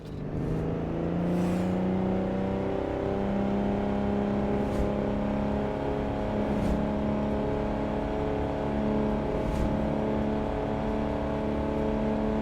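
A car engine revs steadily in the video game Pursuit Force, a loud continuous drone with shifting pitch over twelve seconds, punctuated by a few brief sharp bursts.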